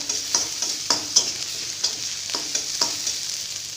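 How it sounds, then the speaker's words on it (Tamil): Onions frying until brown in a pan for dhal fry, a constant hissing sizzle punctuated by regular clacks of a spoon stirring, close and clear with no voices. "வெங்காயம் நல்லா வதங்கிடுச்சு"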